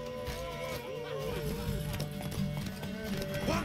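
Horse hooves clip-clop steadily in a video game, with a whinny, close and fairly loud under voices and game music.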